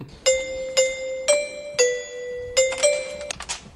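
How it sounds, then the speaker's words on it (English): A doorbell chimes out God Save the Queen as a sequence of clear, ringing electronic tones, a few even notes followed by quicker ones, close and distinct with no talk. "ringing the doorbell, at which God Save the Queen plays from the doorbell"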